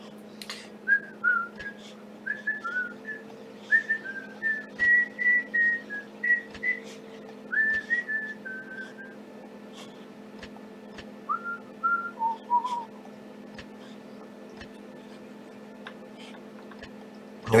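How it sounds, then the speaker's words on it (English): A person whistles a cheerful, wandering tune in short melodic phrases with brief pauses, close and clear over a steady low background hum, alone without talk. "Now, usually when I get really happy, I start whistling without even noticing."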